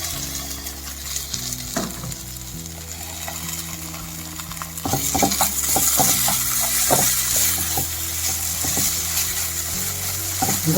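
A potato and beetroot cutlet mixture sizzles in a pan while a utensil stirs and scrapes it in irregular clacks. The frying grows louder halfway through.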